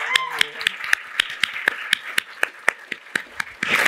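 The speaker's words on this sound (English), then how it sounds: "A round of applause to Maria" An audience claps at a community meeting on school safety: a sparse round of hand claps in a fairly even rhythm, moderately close, with no voices over it.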